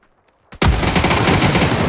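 Rapid automatic gunfire sprays in PUBG Battlegrounds on PC, a sudden loud burst of sustained full-auto shots after a brief near-silent pause, dense and continuous to the end.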